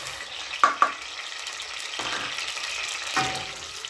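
Onions sizzle gently in a pan for beef pilau, a soft steady frying hiss broken by a few sharp stirring clicks and scrapes.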